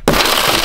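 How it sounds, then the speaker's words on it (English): Car window glass shatters under a small emergency hammer, a sharp loud crack followed by a bright crunching burst of breaking glass, close and alone. "This tiny magic hammer actually magically breaks glass effortlessly."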